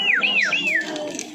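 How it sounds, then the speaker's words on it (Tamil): A parrot-shaped bird whistle toy sold at Tirumala gives a warbling, rising-and-falling trill, three quick swoops close by over faint background bustle. "இந்த இடத்துல 40 ரூபாய்க்கு இந்த கிளி விசில் வித்துட்டு இருக்காங்க."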